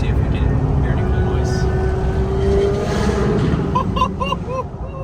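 Chevrolet Corvette Z06 engines at a South Florida toy rally, heard from inside a car through an open window as a loud, steady mechanical roar with rising engine tones, mixed with cabin noise and people talking.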